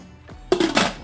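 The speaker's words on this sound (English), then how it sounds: "Get some water in there." Tap water gushes into a pot for steaming potatoes, a broad rushing pour that starts abruptly partway through and stays loud and close to the end.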